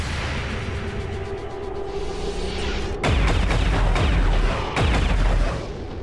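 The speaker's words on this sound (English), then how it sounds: "Apparently you can shoot right through the wall." Gunfire from XCOM 2 punches through a wall in two loud, heavy booming bursts that stand out over quieter game ambience.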